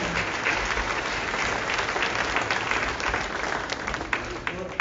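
An audience at a service and appreciation day event claps in a steady, moderately loud round of applause, a dense mass of hand claps holding throughout before thinning slightly at the end.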